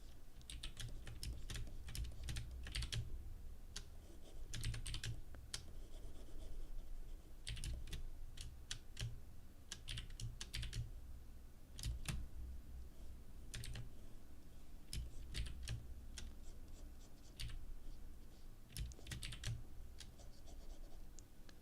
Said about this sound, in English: I'm using a louder keyboard, but I feel like it's a little difficult to press